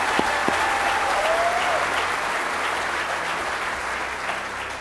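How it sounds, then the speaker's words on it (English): An audience applauds recruit class graduates at a police academy ceremony, a sustained burst of dense clapping that holds steady and tapers slightly over about five seconds, with a brief whistle near the start. "let's go ahead and clap for them"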